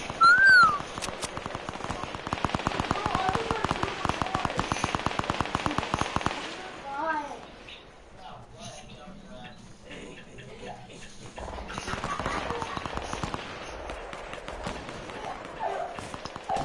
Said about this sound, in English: There's somebody shooting from here.